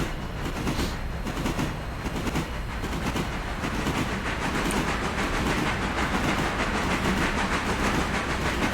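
Train rolling along the track in the railroad simulation game Railroader, a steady, dense rumble with rapid rhythmic clatter that holds at an even, fairly loud level throughout, with no voices.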